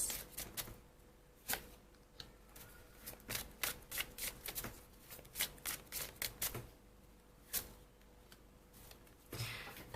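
Tarot cards shuffled by hand in a quiet room, a steady run of crisp riffling snaps and soft card slaps, close and clear with brief pauses between bursts.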